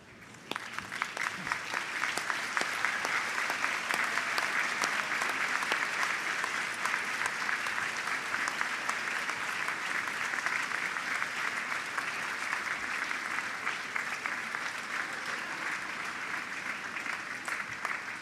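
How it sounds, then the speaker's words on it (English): Sustained applause from a large audience at a university graduation ceremony, steady and dense for nearly twenty seconds, rising quickly at the start and holding an even, full level throughout. "join me in applauding them for the love and"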